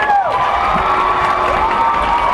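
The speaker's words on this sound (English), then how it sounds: "Let's give them a nice round of applause." A crowd at a faculty-versus-seniors game cheers and shouts with scattered clapping, while a few whistles glide up and down above the noise.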